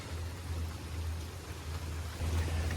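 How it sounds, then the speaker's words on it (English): Heavy rain pouring down outdoors, a steady broadband hiss of falling water with a low rumbling undertone, constant and moderately loud, no voices. "it's pouring down rain"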